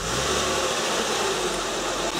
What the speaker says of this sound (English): This is the idler, and listen to it.